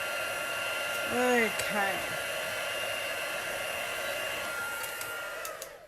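A heat tool blows a steady, loud whirring hiss close by as it melts embossing powder on a Stampin' Up! card. A voice speaks one brief word partway through.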